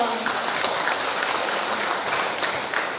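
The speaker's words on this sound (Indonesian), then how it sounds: "Berikan tepuk tangan dulu dong." Audience applause closing a doctor's talk on osteoporosis and osteoarthritis at a health seminar, a steady mid-level wash of clapping that holds evenly for a few seconds with no talk over it.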